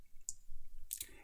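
A computer mouse gives a few faint, crisp clicks while cropping in Photoshop, one isolated tap followed later by a quick double click, heard close at low volume over soft room noise.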